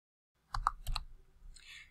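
A few mouse clicks, two quick pairs of sharp clicks close to the mic after a brief silence, followed by faint soft rustling.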